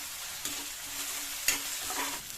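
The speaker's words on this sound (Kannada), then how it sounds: "ಸ್ವಲ್ಪ ಈರುಳ್ಳಿ ಮೆತ್ತಗಾಗೋತನ ಫ್ರೈ ಮಾಡ್ತೀವಿ." Salted onions fry in a pan for dahi bhindi, giving a steady close sizzle broken by a few soft clinks of stirring.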